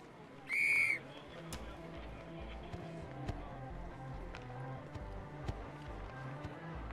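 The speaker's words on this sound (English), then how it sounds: "It's a hockey whistle." A referee-style hockey whistle sounds in a hot dog stand management video game, one short shrill blast near the start over a steady background of game ambience and faint clicks.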